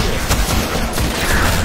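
Dense, loud gunfire in the Destiny video game, a continuous barrage of overlapping shots and impacts filling the short stretch without pause.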